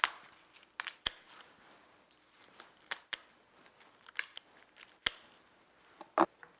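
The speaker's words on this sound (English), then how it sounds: "You just stick inside the edge and just clip it right on down the sides of the lobster" Kitchen shears snipping through a lobster shell, making sharp crisp cracks and clips at irregular intervals, close up and distinct against near silence.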